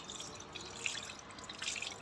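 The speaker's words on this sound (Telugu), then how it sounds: "ఇప్పుడైతే మనం లోపల మంచిగా వాటర్ పోసుకొని క్లీన్ చేసుకోవాలి" Water is poured into cleaned small fish to rinse them, a quiet, steady trickle with light splashing and drips.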